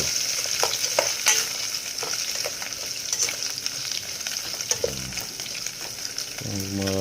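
Smoked tinapa fish simmers in a pot of sotanghon noodle soup, giving off a continuous sizzling bubble that is broken by sharp clinks and scrapes of stirring, close by and with no talk.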